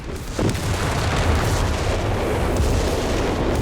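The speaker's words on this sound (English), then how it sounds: "Artillery out the back here." Artillery fire in a Company of Heroes 3 2v2 battle with a BL 5.5 gun: a dense, continuous roar of heavy booms and rumbling blasts keeps up throughout, loud and sustained with no talk over it.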